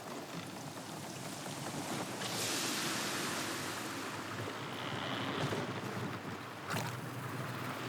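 Waterfalls rushing in the video game Horizon Zero Dawn, a dense, steady roar of falling water filling the scene evenly, swelling slightly at moments, with no speech.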